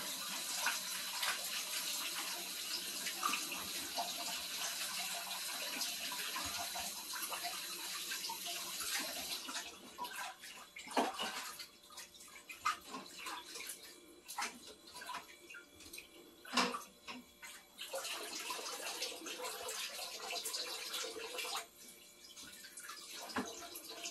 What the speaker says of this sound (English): I'm gonna put some warm water and I'm gonna wash the yellow yam.